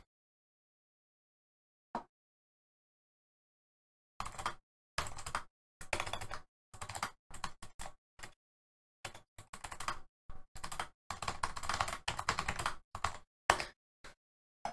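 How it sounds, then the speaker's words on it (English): Fast typing on a computer keyboard, with rapid bursts of close, crisp key clicks separated by short pauses, starting after a single isolated tap. "because I'm trying to type fast."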